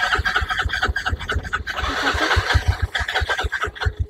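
A motorcycle engine started with the electric start button cranks briefly and catches into a steady, pulsing idle, close by and fairly loud.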